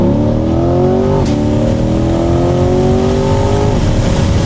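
A C8 Corvette Z51 accelerates hard in second gear after a downshift, its engine roaring loud and close with rising pitch and a brief shift blip partway through.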